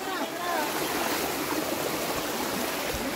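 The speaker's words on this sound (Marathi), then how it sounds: "हे बघू शकता आपण पाणी जात आहे." Water flows in a stream at Barda hill station near Dahanu, giving a steady, dense rushing wash with faint voices at the start.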